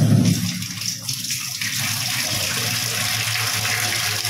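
Water pouring in a steady, loud gushing stream close by, a strong splash at the start settling into an even rushing flow that continues throughout without talk.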